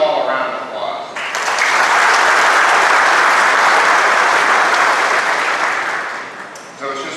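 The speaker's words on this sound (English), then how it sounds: "Let's give them all a round of applause." Loud, sustained applause from an audience at a military exercise closing ceremony, rising quickly to a dense wash of clapping that holds for several seconds before tapering, with a voice briefly heard at the start and end.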